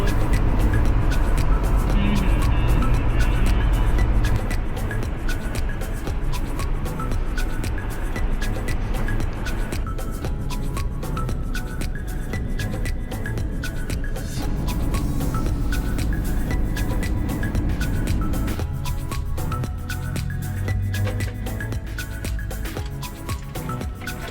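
A car driving on the road through Idaho, heard from inside as a steady, loud rumble of engine and road noise throughout, with music or faint voices blending in.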